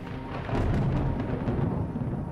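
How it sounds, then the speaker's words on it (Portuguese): Deep rolling thunder in Microsoft Flight Simulator 2020 during a rainy, overcast spell over Espigão do Oeste, Rondônia: a loud, sustained low rumble that swells after half a second and keeps grumbling to the end. "Tá trovejando forte, hein?"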